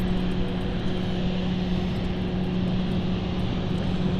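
Aircraft taking off at London City Airport, a steady broadband engine roar with a constant tonal hum, distant and unbroken throughout.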